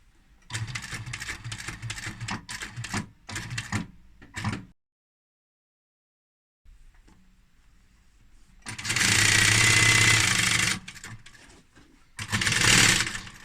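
A sewing machine stitches straight over the join of a cushion cover seam with a zip. It runs in loud, steady bursts between quieter handling noises and a short silence.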